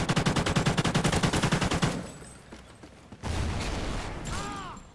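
Marksman and sniper rifle fire in Call of Duty Ghosts: a rapid, evenly spaced string of loud shots for about two seconds, then a quieter pause and another burst of firing with mechanical clatter.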